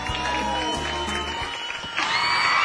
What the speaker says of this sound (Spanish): A ver, aplausos,